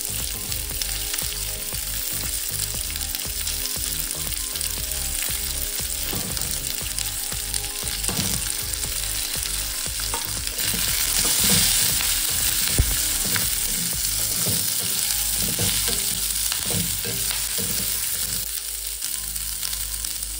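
Onion, garlic cloves and curry leaves frying in hot oil for a Chettinad thuvaiyal, giving a loud, dense, continuous sizzle with frequent stirring scrapes and spoon knocks throughout.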